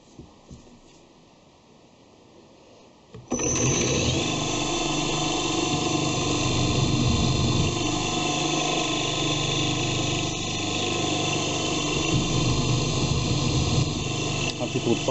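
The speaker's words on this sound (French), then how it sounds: "Et on va percer." A drill on a milling machine starts up after a gear change and table lock, running as a loud, steady machine drone with constant mechanical whine that fills the rest of the clip after a quiet start.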